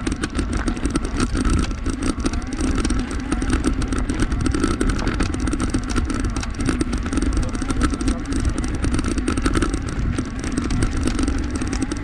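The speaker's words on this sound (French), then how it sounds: "On entend mon moteur." A Fantic dirt bike engine drones steadily and loudly throughout on a singletrack trail, a continuous rough rumble with no clear pauses.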